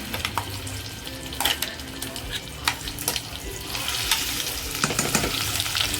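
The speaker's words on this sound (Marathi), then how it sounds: "मसाला मस्त फ्राय करून घ्यायचा आहे आपल्याला" Masala frying in oil in a pan for Kolhapuri mutton rassa, a steady close sizzle with intermittent scraping and stirring clatter and a few louder knocks over continuous crackle.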